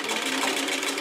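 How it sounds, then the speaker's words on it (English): A Bernina sewing machine runs at a fast, even stitching buzz, close and steady throughout a brief moment with no pauses. "I have a Bernina sewing machine"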